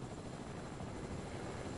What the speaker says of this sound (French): Les gars, il y a un autre hélicoptère